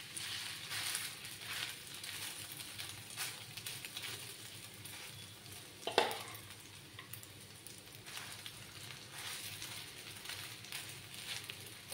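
Hot oil sizzling in a pan while frying bread and egg for a snack, a steady faint crackling hiss with one brief louder spatter midway.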